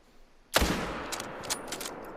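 A single sharp .308 hunting rifle shot in a hunting game, loud and close after a quiet moment, followed by a rolling echo and faint clicks as it fades.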